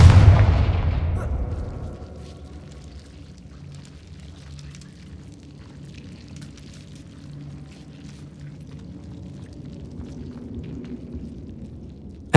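A Confringo spell explodes in the Hogwarts Legacy video game: one loud blast at the start that quickly decays into a low, rumbling ambient hum lasting several seconds, with no talk.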